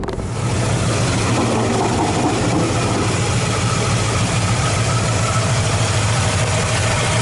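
A 1986 Chevy K10 pickup's engine, freshly fitted with 601 heads, runs steadily and loud close by, its low rumble carrying a faint ticking of lifter noise throughout.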